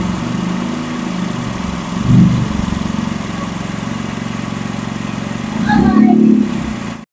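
A Honda City GD8 idles after about twenty minutes of running, following a radiator fan motor replacement and a fixed leaking hose, giving a steady low engine hum with two brief swells in loudness.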